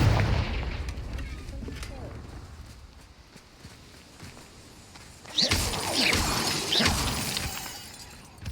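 The Confringo explosive spell goes off in Hogwarts Legacy, with a burst of shattering blasts and crackling debris after a stretch of quieter game ambience, loud and close.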